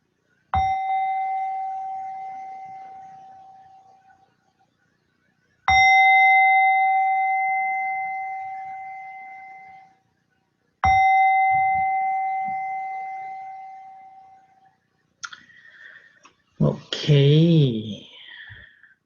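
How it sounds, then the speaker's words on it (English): Three meditation gong strikes ring out one after another, each a bright metallic hit with a long, slowly fading tone, followed by a brief stretch of soft speech near the end. "And with the gong, the third gong slowly coming out from meditation"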